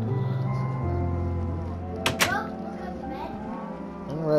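Cows mooing in the Minecraft video game, a couple of drawn-out low bovine calls with a brief sharp click partway through, fairly close and clear with no talk over them.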